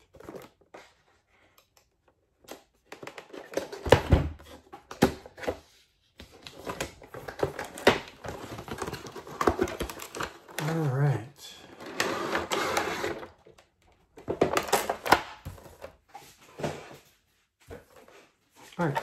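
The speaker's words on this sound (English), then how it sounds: "So I'm going to unbox this. So this is the Merkury ring light." A Merkury desktop selfie ring light, a small one, is unboxed: scattered rustles, scrapes and knocks of cardboard and packaging come close up in irregular bursts, with stretches of talk in between.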